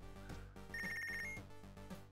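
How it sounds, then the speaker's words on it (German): Telephone ringing in the video game Punch Club, a bright electronic ringtone over game background music, loud and clear with no talking. "Telefon."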